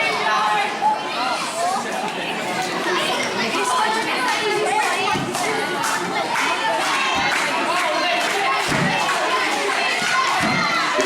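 A crowd at an IPW independent wrestling street fight between two wrestlers roars and chants continuously, with scattered thuds of bodies and chairs, and a commentator talks over the noise.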